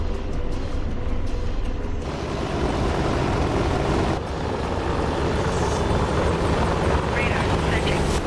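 AH-64 Apache helicopter in a flight sim combat game, steady close rotor thump and engine whine running continuously under busy battle noise and voice chatter.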